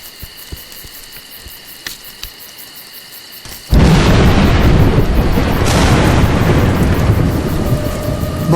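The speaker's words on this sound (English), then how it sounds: "Mud, thunder and lightning are terrible opponents." Thunder crashes in A Juggler's Tale, a sudden loud burst after quiet ambience that rolls on as a dense, sustained rumble with heavy rain-like noise, no voices.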